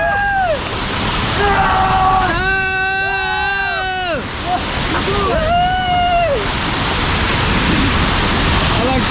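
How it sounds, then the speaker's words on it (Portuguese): A waterfall at a campsite gives a loud, constant roar of falling water. Excited voices ring out close over it, with the roar carrying on underneath from start to finish. "Olha a cachoeira."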